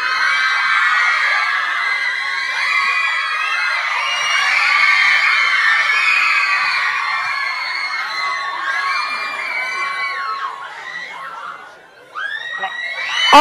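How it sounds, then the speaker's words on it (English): Fans of One Direction scream at a Z100 radio event in New York, a dense, loud wall of high-pitched shrieks and cheers that barely lets up before dipping briefly and surging back near the end. "keep screaming."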